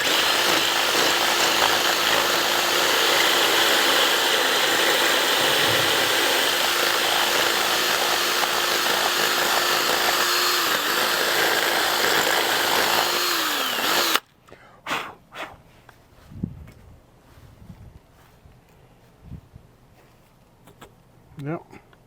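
A power drill bores into the ground for a retractable garden hose reel, a loud steady whine for about fourteen seconds with the pitch sagging near the end, then it cuts out, leaving light clatter and handling noises.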